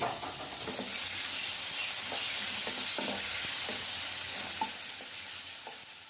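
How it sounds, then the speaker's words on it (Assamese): Chopped tomato sizzles and fries in a hot pan of browned onions while making a swamp eel gravy, a steady close hiss with occasional soft stirring scrapes and no talk. "এতিয়া মই কাটি ৰখা বিলাহীটো ইয়াতে দি দিছোঁ।"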